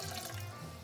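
Water is poured into a pot of Greek spinach rice (spanakorizo), a short, close, rushing splash lasting under a second.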